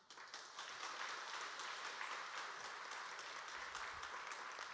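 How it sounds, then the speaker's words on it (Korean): A church congregation applauds at an afternoon worship service as a visiting pastor comes forward to preach: dense, steady clapping from many hands that holds at an even level for the whole stretch, with no talk over it. "우리 목사님 나오실 때 큰 박수로 환영하겠습니다."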